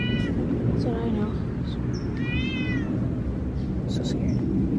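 A cat meows repeatedly near a treehouse stay, several short, high, clear meows spread over a steady background of people talking nearby.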